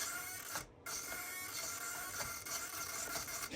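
An old Savox RC servo from a Tamiya XV01 chassis whirs with a faint, steady mechanical buzz and a brief dip partway through, heard quietly up close without speech.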